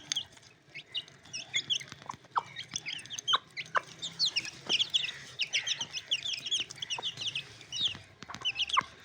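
Aseel chickens clucking steadily while they feed, a dense run of close, overlapping clucks and short calls with faint pecking and rustling underneath, continuing for the whole stretch.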